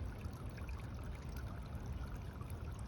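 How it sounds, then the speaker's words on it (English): Water pouring and trickling steadily down a ravine, a constant close rushing wash with a low gurgle and no other sounds over it. "you get to watch the water getting poured over there"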